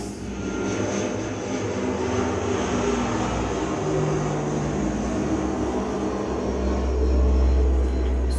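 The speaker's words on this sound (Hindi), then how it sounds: "Sorry for all the background noise viewers, ये एरोप्लेन्स की आवाज है।" Airplanes pass overhead, a loud steady engine roar that swells near the end and fills the whole stretch with no voices.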